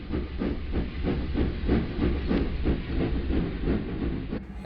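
Steam locomotive in Microsoft Train Simulator, rhythmic chuffing exhaust beats with hissing steam, about two puffs per second, loud and steady, no voices.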